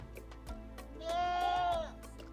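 A goat on a Ugandan goat farm gives one clear, wavering bleat of about a second. It is close and loud over quiet background noise with a few faint knocks.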